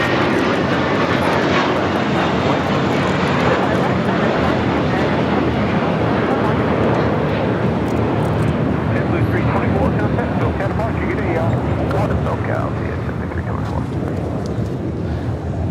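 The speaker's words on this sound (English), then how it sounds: "A321 now rolling down at 25 right. It's flight 324 taking off to JFK." Airbus A321 taking off on runway 25 right at LAX, a loud continuous broadband engine roar with rumble and wind buffeting, sustained throughout, with a voice speaking over it.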